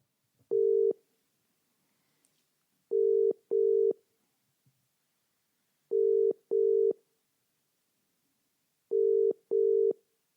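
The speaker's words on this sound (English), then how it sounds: "So, we'll dial in now then." A telephone rings out while calling an interview guest: a steady tone sounding once, then in three evenly spaced double-ring pairs, clear and alone against silence.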